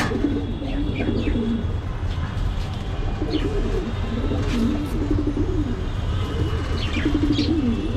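Domestic pigeons cooing in repeated low, rolling phrases at close range, with occasional faint chirps and a steady background hum.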